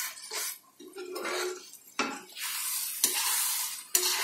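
Masala paste sizzles and fries in ghee in a pan while a spoon stirs and scrapes against the metal, with a few sharp clinks of the utensil over a steady, close crackle.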